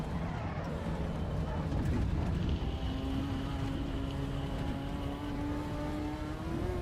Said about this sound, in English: Sounds fucking close to an F1 car, that does.